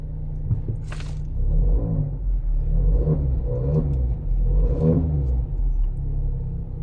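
An Emzoom R Style car's exhaust in sports mode gives a deep, close rumble with a few gentle rev swells rising over a steady idle, and no voices.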